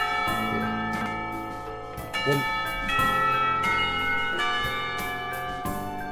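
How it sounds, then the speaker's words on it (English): A school bell in the visual novel Katawa Shoujo rings as a series of sustained, overlapping chime tones struck several times, clear and fairly loud. "When the final bell sounds, I realize that there's still a lot of time left in the day"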